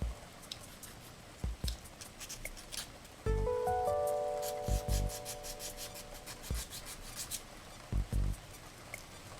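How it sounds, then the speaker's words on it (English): Small nodules are sanded off by hand in short, dry rubbing strokes that come in scattered bursts, close and fairly quiet, with a brief ringing tone partway through. "These little nodules I think I'm gonna sand off."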